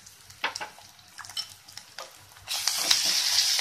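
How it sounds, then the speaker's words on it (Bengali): Browned onions and garlic paste fried and stirred in a pan for a green jackfruit and prawn curry, with intermittent scraping and clinks, then a loud, bright sizzle swelling up in the last second. "রসুনটা দিয়ে একটু নাড়াচাড়া করে নেব যতক্ষণ না রসুনের কাঁচা গন্ধটা চলে যায়।"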